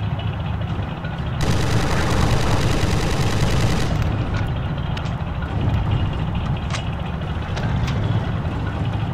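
Dense, sustained gunfire from a World War II battle at the Siege of Tobruk in Forgotten Hope 2, a loud steady barrage of rapid shots that eases into scattered distant firing and engine rumble.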